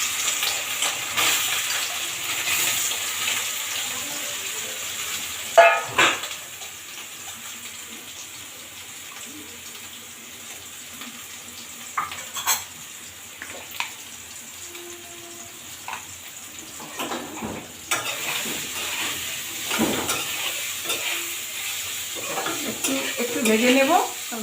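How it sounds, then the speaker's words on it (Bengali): Soaked soybean chunks fry in a pan with salt and turmeric: a steady, soft sizzle with occasional scraping stirs and clinks, close up and alone, with no talking. "এবার একটুখানি নুন হলুদ দিয়ে একটু ভেজে নেব।"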